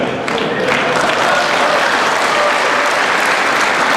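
Audience clapping at a political talk about a Scorpene submarine deal, steady sustained applause from a crowd filling the room, dense and loud throughout with no pauses.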